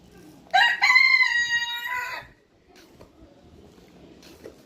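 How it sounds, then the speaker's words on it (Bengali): Foreign breed rooster at an animal park crowing once, a loud drawn-out crow lasting under two seconds and then fading into quiet background noise. "বিদেশি মুরগি।"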